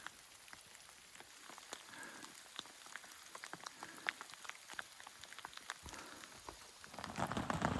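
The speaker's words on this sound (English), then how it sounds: "it has turned into an all-day rain" Steady all-day rain pattering on surfaces at a mountain campsite along the Pacific Crest Trail in California, dense scattered drops throughout, growing louder toward the end.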